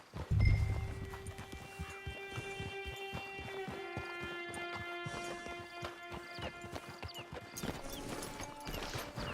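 Horse hooves clip-clop in Red Dead Redemption Online, a steady run of close, clear hoofbeats over a quiet ambient hum and tonal music, with a brief heavy thump at the start.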